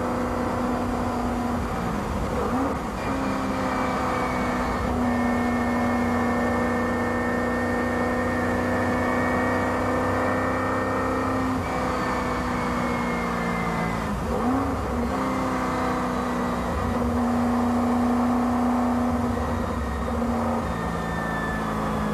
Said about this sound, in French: prenons place aux côtés d'Alain Cudini dans la Lola numéro 15